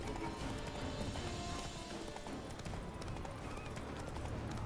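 Galloping hoofbeats from the horse in The Witcher video game pound steadily under a dense, continuous wash of game ambience and music, with no pause through the stretch.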